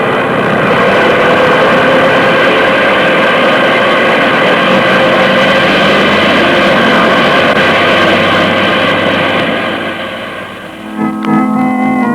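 A radio-drama sound effect of an airplane engine taking off, a loud, steady propeller drone with strong harmonic tones that holds for about ten seconds, then drops away as a brief clatter and a different low hum close it out.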